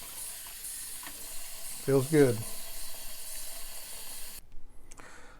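Hot water running from a tap into a bucket, a soft steady rush of filling water close by, with a brief spoken remark over it before the flow cuts off.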